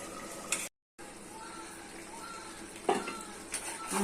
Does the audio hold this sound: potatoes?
yes